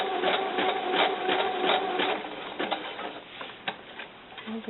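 A sewing machine stitches an elastic ruffle on a doll cover-up in quick rhythmic bursts of whirring and clicking, starting and stopping several times, close and clear with no talk.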